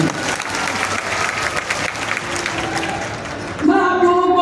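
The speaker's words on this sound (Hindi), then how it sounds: "तो फिर एक बार जोरदार ताली बजा आगे बढ़ रहा है।" An audience at a Hindi poetry recitation claps loudly and steadily. The applause fades toward the end as a few voices rise and a tonal sound cuts in.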